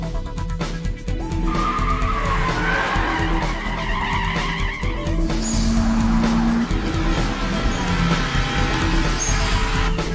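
Cars in a street race on a narrow mountain course, engines roaring and tires skidding and squealing loudly and continuously, with a long sustained screech in the middle, set against anime background music.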